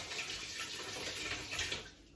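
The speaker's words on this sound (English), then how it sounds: "I had already put it in the water, in the soapy water, so I had to rinse that off." A whisk is rinsed under a running kitchen tap after sitting in soapy water, giving steady close hissing water flow with small splashes that tails off toward the end.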